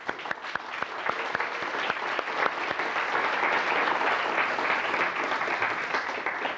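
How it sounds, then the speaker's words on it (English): Audience at a tech meetup applauds, a dense, steady wash of clapping with a few sharp individual claps standing out near the start, sustained for several seconds with no talk over it. "So a big round of applause to Barclays."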